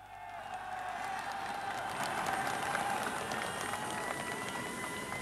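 A large crowd cheers and applauds at an airport arrival as a returning skier steps off the plane. The sound is a faint, distant, steady roar of mixed cheering and clapping on an old broadcast recording.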